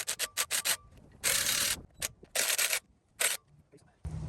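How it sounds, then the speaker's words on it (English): Front wheel hub flange nuts on a Toyota 100 Series Land Cruiser are loosened with a ratcheting tool, giving short rapid clicking bursts and longer grinding rattles that stop and start, close by, with a voice talking in between. "Next, I'm going to loosen all these flange nuts."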